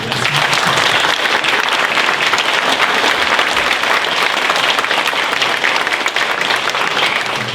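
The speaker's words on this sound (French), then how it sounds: "Donc je voudrais qu'on l'applaudisse." Audience at a children's concert applauding, a loud, dense, continuous clapping that holds steady throughout.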